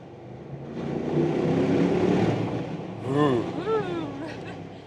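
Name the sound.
2025 Audi RSQ8 Performance engine accelerating in RS mode in a tunnel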